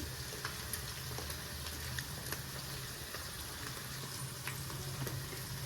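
Vegetables fry in a pan for a gobi tomato curry, giving a steady, close sizzle with scattered crackles and pops that run unbroken and without voices.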